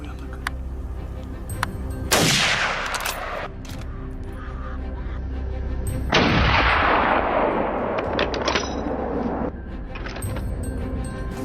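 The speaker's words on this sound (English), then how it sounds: "With swift consecutive shots," Rapid shots fired during a wild boar hunt ring out close and loud in two sharp bursts, each trailing off into a long rolling echo, over a steady low background rumble.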